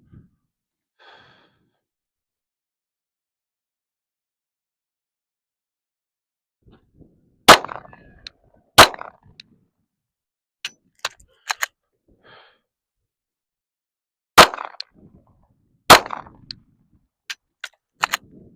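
Glock 17 Gen 5 9mm pistol dry-firing dummy rounds in a drill, giving sharp, close mechanical clicks and clacks in scattered pairs and singles, separated by quiet gaps with faint breathing.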